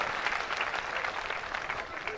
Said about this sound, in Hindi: तालियां कमजोर है यार आप लोगों की यार